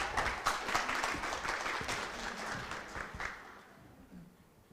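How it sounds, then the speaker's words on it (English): An audience at a Falcon Talks event applauds a speaker walking onto the stage, with moderately loud, steady clapping that fades away over the last second. "Give a round of applause for Michael"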